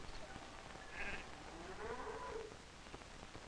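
Sheep on a small 1940s Norwegian farm bleating, a couple of thin wavering calls heard faintly through a steady hiss and under narration.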